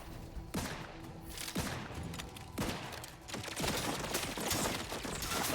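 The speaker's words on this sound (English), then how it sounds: "Who's shooting? Oh, it's a turret." Automated turret gunfire in the video game The Outer Worlds 2, several bursts of rapid shots in irregular volleys, fairly quiet and close, continuing throughout with no clear speech.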